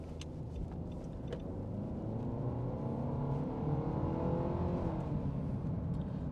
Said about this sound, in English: You do get a bit of noise from that motor as we go up in the rev range